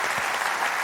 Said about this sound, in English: Let's give Kevin another big round of applause, appreciation.